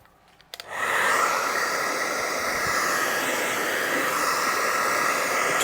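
A heat gun or hot-air blower warms a carbon-finish rear spoiler being pressed onto a Tesla Model S, starting abruptly after a brief knock and then blowing as a steady, close, loud hiss to the end.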